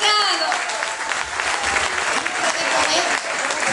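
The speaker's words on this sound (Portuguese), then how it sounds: "uma salva de palmas para aquele senhor que gastou no centro" Crowd at a Portuguese magazine's anniversary prize-giving claps loudly for a man, the applause dense and lively, with a presenter's voice over it at the start.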